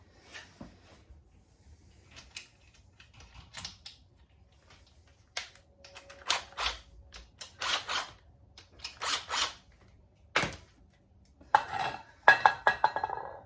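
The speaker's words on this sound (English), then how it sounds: "we can also throw those AC bolts back" Metal engine bolts from an LQ4 6.0 rebuild clink and rattle as they are handled, giving scattered light metallic taps and small bursts of jingling in a quiet room, louder toward the end.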